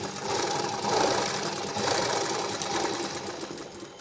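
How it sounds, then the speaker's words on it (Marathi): A sewing machine runs steadily while stitching a double seam on a princess-style blouse, its motor whirring continuously with a fast mechanical chatter close up and no talking. "तेच कपडा मी परत एकदा उलटा केला आहे आणि नंतर त्यालाच आपण डबल शिलाई घ्यायची"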